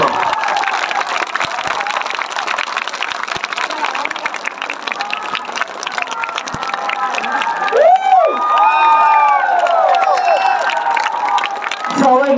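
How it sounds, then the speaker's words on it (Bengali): A large outdoor crowd at a rally for Barrister Suman in Chunarughat claps and cheers continuously, a dense roar of applause and shouting with a loud whistle-like swell near the end. "আমি চাই ব্যারিস্টার সুমন ভাইয়ের জন্য একটা হাততালি হবে"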